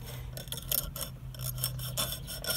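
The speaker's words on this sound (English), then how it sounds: "So I'm going to start sawing at it right now." A string saws back and forth through the adhesive pad of a blind spot mirror stuck on a car side mirror, giving a close, steady rasping rub in quick repeated strokes with no talking.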